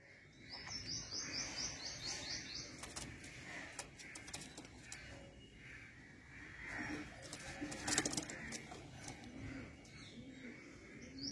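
Pigeons coo and murmur at a dealer's loft, faint soft calls with scattered chirps and rustling over several seconds, no one speaking.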